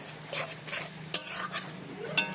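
Spices stir-fried in a pan over a clay stove: a gentle sizzle under a few scraping strokes of a spoon against the pan, close and clear, with no talking.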